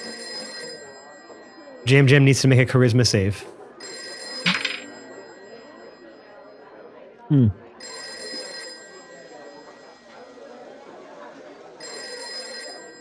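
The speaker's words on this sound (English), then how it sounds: "the phone starts to ring behind the counter." A telephone behind a cafe counter rings in repeated electronic bursts with pauses between them. People talk over the ringing, and a few louder voice bursts break in.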